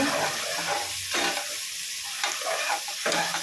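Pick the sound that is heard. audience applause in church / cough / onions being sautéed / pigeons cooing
onions being sautéed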